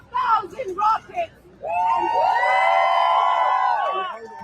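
A rally crowd erupts in a loud, sustained cheer with whoops and yells lasting several seconds, preceded by a few short shouted voices.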